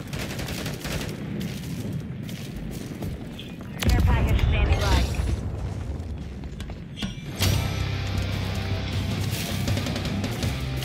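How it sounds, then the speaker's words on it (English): Call of Duty or Halo gameplay: heavy gunfire and booming explosions form a dense, loud wall of sound throughout, with two sharper blasts standing out partway through. "Grenade out."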